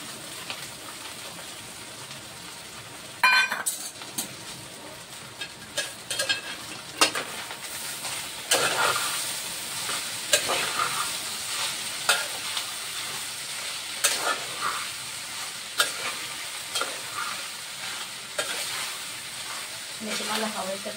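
Soaked sabudana pearls cook in a pan for sabudana khichdi, with a continuous sizzle broken by repeated scrapes and clatters of stirring; one sharp knock sounds early on, and speech is heard at moments.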